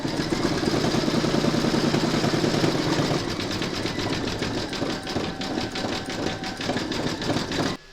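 A sewing machine runs steadily, stitching a round on a zipper top glasses case with a fast, even mechanical whir that holds for several seconds before stopping abruptly.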